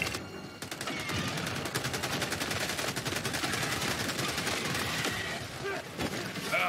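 Rapid, sustained automatic gunfire from teammates in the video game Helldivers 2, dense crackling bursts close and loud throughout with a voice briefly under the shooting.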